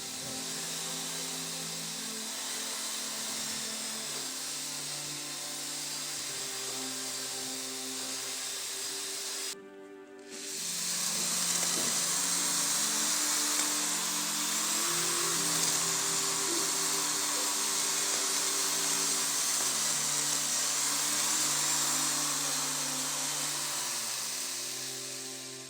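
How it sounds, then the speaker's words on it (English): Power drill mixing wall paint thinned with water in a bucket, a steady whirring hum that cuts out briefly, then restarts and runs on at a constant pitch. "Mix with a drill."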